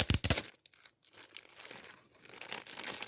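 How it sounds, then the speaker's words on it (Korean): Plastic stationery packaging being torn open up close, a few sharp crinkling rips followed by softer rustling and crumpling. "뜯어볼게요"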